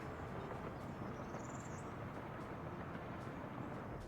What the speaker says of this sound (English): our train is doing the run